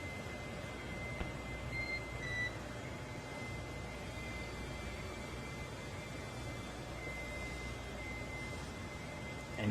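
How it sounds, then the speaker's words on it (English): Short electronic beeps punctuate a steady hiss of radio static on SpaceX Dragon space-to-ground communications during checkouts with launch control at the Cape, with a faint tone briefly rising near the start. "And you'll be hearing those very characteristic beeps."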